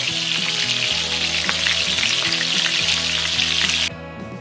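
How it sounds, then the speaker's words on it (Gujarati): Steady, loud sizzling of muthiya dumplings and small potatoes deep frying in hot oil, bubbling continuously throughout, with a faint rhythmic background hum underneath. "ચાલો ત્યારે તળી લઈએ મુઠિયા અને શાકભાજી"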